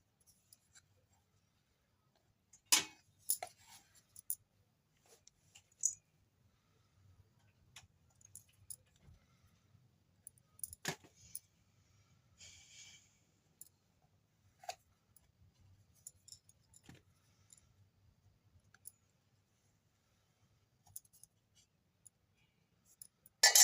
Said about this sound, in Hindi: देखिए तो ये सारा एक्स्ट्रा आटा मैं काट के हटा ली हूँ और जितनी ज़रूरत है उसे छोड़ दी हूँ मैं।